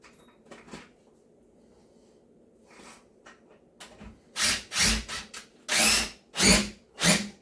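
A power drill works at screws in a cabinet during a rebuild, with quiet handling noises first and then a run of loud, short drill bursts close by, about six in quick succession.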